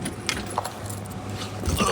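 Close, brief metallic clinking from a small keychain, light jingles over a low rumbling background.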